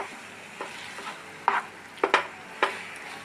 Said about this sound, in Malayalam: ഇളക്കണം